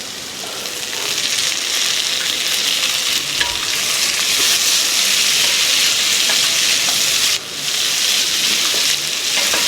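Chopped tomatoes are stirred into beetroot and carrot vegetables frying in a pan, giving a loud, continuous crackling sizzle with a couple of brief dips, and no voices.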